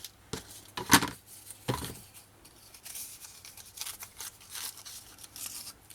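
Blade cutting through scrapbooking paper on a craft project, a few sharp scraping strokes and slices with brief pauses, close and fairly quiet with no talking.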